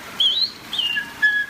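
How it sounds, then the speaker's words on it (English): Birds on a Disney World jungle ride give a few clear, rising and falling whistled calls, spaced apart and fairly close, with no talking. "Suddenly, the treetops explode in a frenzy of outraged birds."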